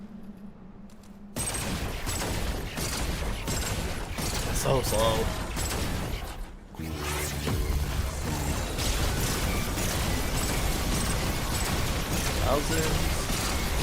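Remnant 2 video game combat with rapid, continuous weapon fire, impacts and explosions crackling densely throughout. Someone talks over the near-constant barrage.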